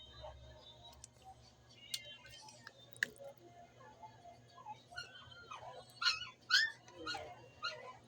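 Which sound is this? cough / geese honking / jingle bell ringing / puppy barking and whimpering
puppy barking and whimpering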